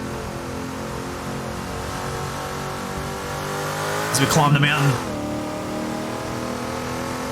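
A Ford Falcon hardtop race car climbs the mountain at Bathurst, its engine droning steadily and loudly, rising to a brief roaring surge midway, with a commentator talking over it.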